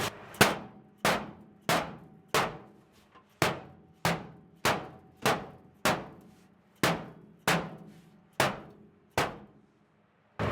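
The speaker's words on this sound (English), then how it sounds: "For that, I'll probably just whack it with the hammer here." A hammer strikes a sheet metal floor pan against a frame rail in a Jeep Comanche project, about a dozen sharp, ringing metallic blows at a steady, fairly quick rhythm, close and loud with no talking.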